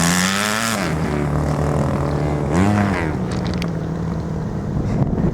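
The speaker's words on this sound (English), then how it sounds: "the sound of motorbikes underneath them." A motorbike engine drones loudly nearby, its pitch rising and falling as it revs and passes, with a second surge midway.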